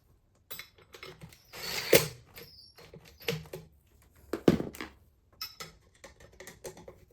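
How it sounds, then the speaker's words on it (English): Screws are driven into a ceiling fan mounting bracket in bursts of ratcheting, clicking turns separated by pauses, with sharper clanks at the loudest moments. "I'm gonna line them up on these holes, screw them down"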